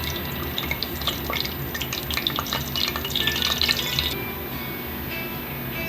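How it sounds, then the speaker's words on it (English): Whole cinnamon, cardamom, cloves and anise crackle and splutter in hot oil, a dense close run of small pops and sizzles over a steady frying hiss, with no talking. "These spices should get spluttered"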